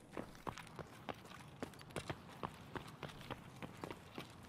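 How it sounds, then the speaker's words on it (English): Footsteps in Escape from Tarkov on a city street, a steady run of quick crisp steps at an even pace, faint and somewhat distant, with no talk over them. "I thought I heard footsteps"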